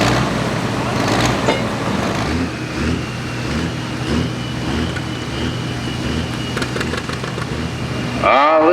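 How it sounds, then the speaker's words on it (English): A Cummins diesel in a pulling truck at a Boonsboro truck and tractor pull rumbles steadily at a distance, a low droning engine note under faint crowd and announcer chatter, with a sharp louder burst at the end. "Listen to that Cummins."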